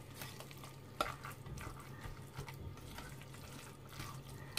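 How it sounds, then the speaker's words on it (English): Danish frikadelle meatball mixture is stirred and mashed by hand in a bowl, a quiet, soft wet squelching with small irregular clicks and scrapes, close and faint, with no talk. "haluin yung mabuti"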